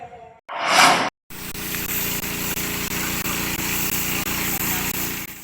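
A spraying machine engine run by volunteers washing flood mud off an elementary school yard in Palaran, Samarinda drones steadily and loudly, close by, after a short burst of other sound at the start.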